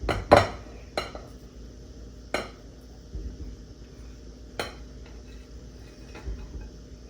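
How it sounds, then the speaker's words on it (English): A spoon clinks against a spaghetti casserole dish while pre-browned hamburger is stirred in: a few sharp, scattered knocks close by, with quiet pauses between them and no voices. "Stir this all in here."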